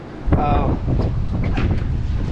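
Strong wind buffeting a microphone, a constant low rumble and roar with gusty swells throughout.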